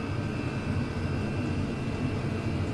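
Chinese diesel oil heater fitted with an extra-long exhaust, running at full power: a steady, even roar with a broad low rumble and a faint high whine, constant throughout with no talk.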